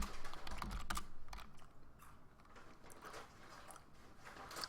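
Continuous typing on a computer keyboard, with dense, irregular clicking keystrokes up close at a steady moderate level and no talking.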